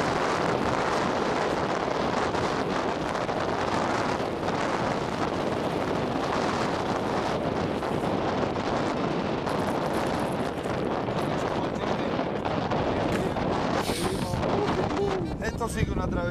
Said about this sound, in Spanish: Un poco de viento ahí,